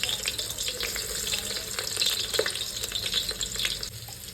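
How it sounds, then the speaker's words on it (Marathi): Crushed garlic fries in hot oil in a pan for a crab curry gravy, a steady close sizzle and crackle holding for several seconds with occasional stirring scrapes. "तेलात आता छान लसूण ठेचून टाकायचे"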